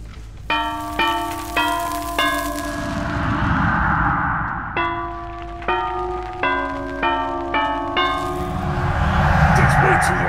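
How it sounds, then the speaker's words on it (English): Bells toll in the horror game Dead by Daylight, a series of clear, ringing strikes with long harmonic decays in two bursts, sounding close and loud over a faint rumbling background. "I just like to scare people with those bells"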